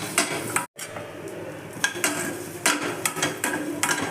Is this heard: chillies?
yes